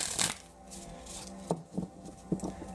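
Oracle cards being shuffled, with a riffle burst near the start and a few soft, quick flicks and taps afterward, close by and moderately loud.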